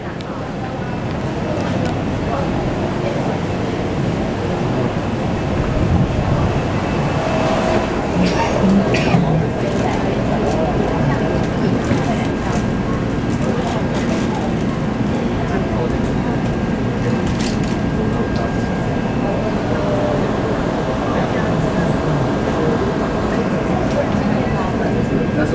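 A Taipei Metro 371-type train runs from Zhongshan to Ximen toward Xindian with a steady, loud rumble and hum throughout, heard from inside the car, with faint clicks and squeaks along the way.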